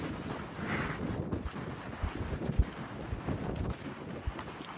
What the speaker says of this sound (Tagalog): Hangin, sobrang hangin.